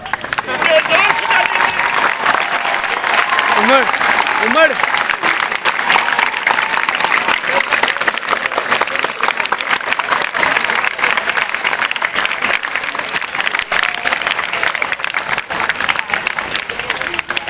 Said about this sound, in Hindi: बड़े उस्ताद के लिए इतनी तालियां सिर्फ पूरे जोर से